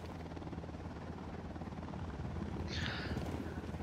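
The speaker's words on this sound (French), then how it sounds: "Hélico en approche." A helicopter approaches in the video game Ghost Recon Wildlands, its rotor a faint, steady thrum in the distance that swells slightly toward the end, with a short higher rustle near the close.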